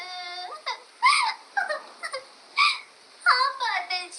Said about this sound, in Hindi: हम तेरी रोने की आवाज सुन के यहाँ आए हैं